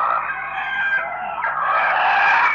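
Chickens at a monastery cluck and crow loudly and close by, a dense overlapping flock call filling the whole stretch with no talk.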